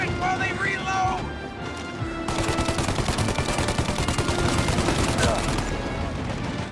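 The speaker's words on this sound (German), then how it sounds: "jetzt schiesse ich aufs Geschütz" Rapid bursts of gunfire in Mafia: Definitive Edition, shooting at a gun emplacement, crackle loud and dense almost throughout with a short lull, while a player talks over the shots.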